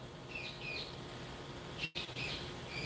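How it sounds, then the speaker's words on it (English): Pet birds chirp indoors in a house, with several short, bright bursts of tweets repeating over a low, steady room hum, moderately close. "You hear the birds? Hear my wife's birds?"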